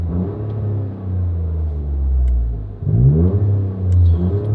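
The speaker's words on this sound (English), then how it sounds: "and then here's with it closed again." A Toyota GR Corolla engine revs with the exhaust valve closed in a low, steady rumble, swelling briefly before dropping and climbing again; nearby and fairly loud, with no talking.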